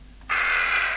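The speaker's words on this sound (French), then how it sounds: "Oh là, il y a un corbeau." A crow caws loudly and harshly in the horror game Little Hope, one sustained call that breaks in suddenly over a quiet, low background and holds to the end.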